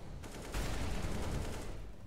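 Sustained bursts of gunfire in the video game CS:GO, dense and rattling, with a sharp onset after a brief lead-in and then steady rapid shots for the rest of the clip.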